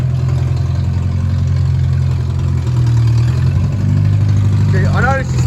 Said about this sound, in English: He's reversing her out the shed.